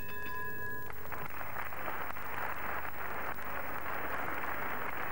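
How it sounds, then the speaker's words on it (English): A crowd of wrestling fans at a grappling bout in Burnley breaks into sustained applause, a dense, even wash of clapping heard from a distance after a brief tone at the start. "Great applause from obviously a load of grapple fans here in Burnley"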